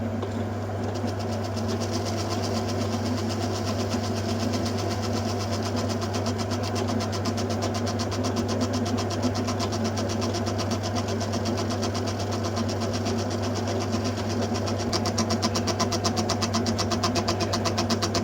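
A lathe skimming the commutator of a BTH CA 4750 starter motor, taking a very light cut of about a thou, giving a steady, even machine hum and whir that runs unbroken and alone for the whole stretch.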